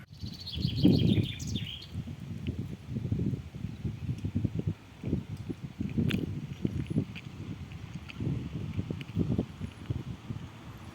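A bird gives a brief high chirping call at the start and then flutters away, followed by scattered rustling and soft thumping movements outdoors in Slavutych.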